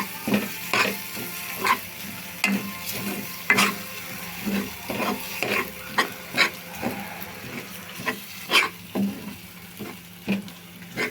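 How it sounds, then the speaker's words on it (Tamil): Mutton brain fries in a pan while a spoon stirs it, making a soft continuous sizzle with regular scraping strokes about twice a second, close up. "இங்கே பாருங்கள் அப்படி நல்லா ஃப்ரை பண்ணுங்கள் அது அந்த ஹீட்லேயே நல்லா மெல்ட் ஆகிடும்"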